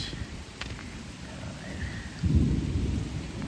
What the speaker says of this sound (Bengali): বৃষ্টি শুরু হয়ে গেল ঝড়ে আম পড়ছে গাছের নিচে হেভি ঝড় হইতেছে